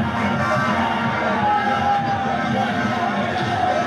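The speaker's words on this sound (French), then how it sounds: "Une foule compacte, visiblement fébrile, attend avec ferveur l'arrivée imminente d'un homme" A dense, excited crowd waits outside Garoua international airport for a man's arrival, a steady roar of many voices with scattered cheers and shouts, loud and continuous throughout.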